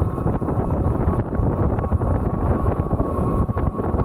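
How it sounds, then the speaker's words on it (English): Steady, loud wind buffeting a microphone while riding an Ariel Rider Kepler V2 e-bike into a headwind on a lakeside path, a constant low rumbling roar with brief gusty dips throughout. "Got some wind, folks."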